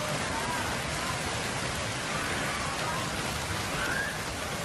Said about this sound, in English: Hurricane and hail breaks the city of Cremona.